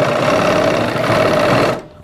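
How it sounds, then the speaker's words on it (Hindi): Sewing machine stitching the side seam of narrow women's pants, a loud, fast, steady mechanical whirr that runs continuously, then stops abruptly near the end. "बिल्कुल बराबर से रख के आप इसे सिलाई लगाएं।"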